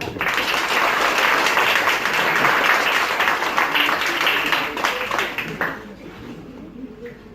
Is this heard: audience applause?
yes